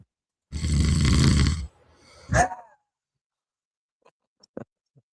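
A person snores loudly and close by: one long rasping inhale, then a shorter rough snort, followed by a few faint small clicks in otherwise quiet surroundings.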